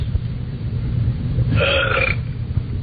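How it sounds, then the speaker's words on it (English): A single long, low burp rumbles over a steady background hum, loud and close, swelling in the middle before trailing off. "I want to find the pig that's burping."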